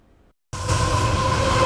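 A train on the railroad tracks at a Kenton County crossing near a home cuts in abruptly as a loud, steady rumble with a low drone and a faint metallic whine, close by and without a break.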